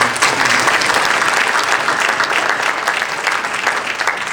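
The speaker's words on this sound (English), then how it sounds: "I want another round of applause." A crowd at the 2012 DFOC annual dinner gives a loud, sustained round of applause, thick and continuous from start to finish.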